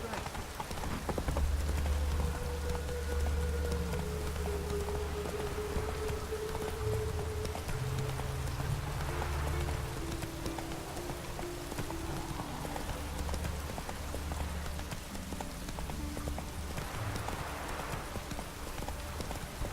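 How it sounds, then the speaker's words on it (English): Rain falls continuously in The Witcher 3, a steady wash under horse hooves clip-clopping and a low droning score, with characters talking over it. "No use doing any work in this rain."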